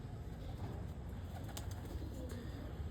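Sialkoti breeding pigeons, hens kept for breeding, give soft, low coos close by over a steady ambient hum, with a couple of brief sharp clicks or rustles partway through.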